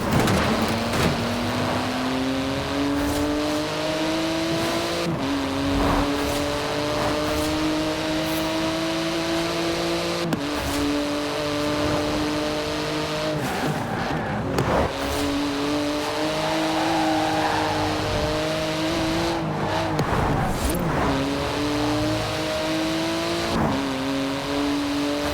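A race car engine in Forza Horizon 4 screams through repeated upshifts, pitch climbing then dropping at each gear change, loud and constant with occasional clunks, no talking.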